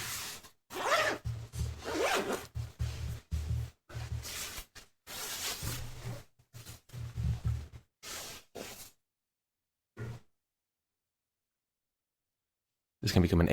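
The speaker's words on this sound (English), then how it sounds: "This can become an ASMR zipper stream." A jacket zipper zipped repeatedly in quick rasping strokes, close and fairly loud, in a long bursty run with brief gaps, then a pause of near silence before one more short burst at the end.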